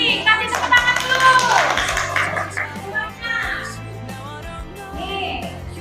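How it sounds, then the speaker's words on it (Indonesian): Children in an Indonesian classroom clap their hands together in a short burst of applause, with young voices and chatter mixed in under the clapping throughout. "Kasih tepuk tangan dulu."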